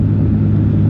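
A loud, steady motor drone with a deep rumbling hum from a truck air conditioner with a broken motor, close and continuous throughout, like a compressor running hard.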